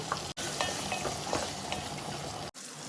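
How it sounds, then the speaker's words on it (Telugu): Vegetables with spices and chili powder sizzle and fry steadily in a pan for sambar, a close, continuous crackle broken by two brief stirring dropouts. "మన వెజ్జెస్ అన్ని చక్కగా ఫ్రై అయిపోయినాయి"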